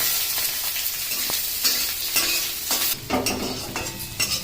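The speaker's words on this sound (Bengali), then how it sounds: "রসুন আর পেঁয়াজ দিয়ে ভাজা ভাজা করে" Garlic and onion frying in a pan, a continuous close sizzle broken by repeated scraping stirs and light utensil clatter, with no voices.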